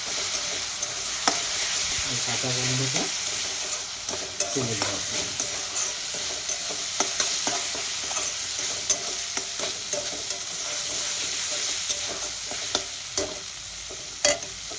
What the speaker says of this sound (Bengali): এবারে আমি দিয়ে দেবো আদা রসুন কাঁচা লঙ্কা বাটাটা দুই চামচের মতো এটা দিয়ে আমি খুব ভালো করে কষাবো